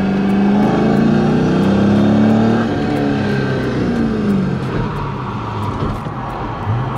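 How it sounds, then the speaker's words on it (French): A Nissan S14 drift car arrives on a circuit with a loud, close engine drone and rising revs that settle into a rough, uneven rumble, with no talk over it. "on a une petite S14 qui arrive"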